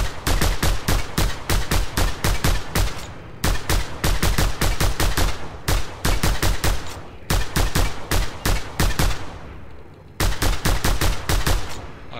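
Rapid bursts of automatic gunfire in the video game Just Cause 2, loud and close, firing in repeated volleys separated by brief pauses with no talking.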